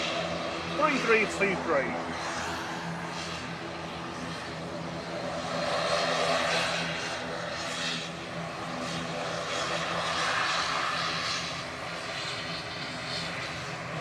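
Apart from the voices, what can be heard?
ATR turboprop airliner departing to Dublin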